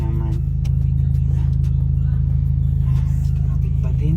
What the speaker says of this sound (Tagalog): Traffic pa din.